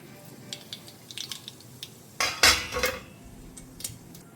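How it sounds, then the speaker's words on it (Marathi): Mustard seeds dropped into hot oil in a pan while cooking a vegetable side dish, with small clinks of utensils, then a burst of crackling spatter that fades into light pops. "सो आतां घालता हांव सांसवां घालता."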